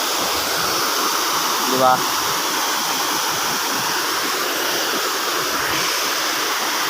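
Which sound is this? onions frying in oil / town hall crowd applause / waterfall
waterfall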